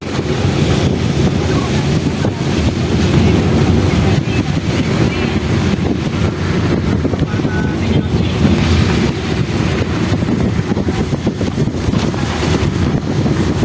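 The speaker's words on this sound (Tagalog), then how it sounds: "Lakas ng hangin." Strong wind buffets the microphone with a constant roaring rush, loud and unbroken throughout, with faint rumbling underneath, recorded riding in the back of a moving pickup truck.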